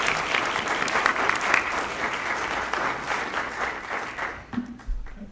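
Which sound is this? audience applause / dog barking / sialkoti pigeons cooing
audience applause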